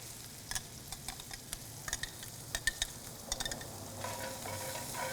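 Red onions sweat gently in a pan on a Kamado Joe Classic II grill next to browned sausage. A soft, quiet sizzle runs throughout, broken by scattered clicks and scrapes of stirring.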